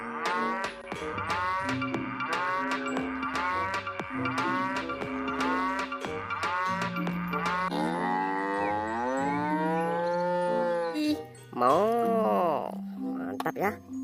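A toy cow gives a series of repeated mooing calls, loud and close, over an electronic tune of short rhythmic notes.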